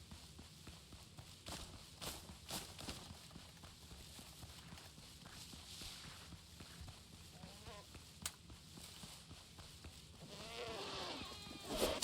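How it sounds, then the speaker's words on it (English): Goats bleating in a video game, several short wavering calls near the end over a busy bed of hoof-like clip-clop steps and game sounds, fairly faint overall. "Goats."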